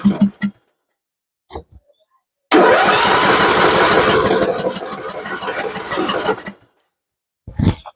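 Troy Bilt Pony riding lawn mower engine cranking with the choke on: a few short clicks, then a loud, close, rasping crank of about four seconds that fades without catching, followed by a brief final burst.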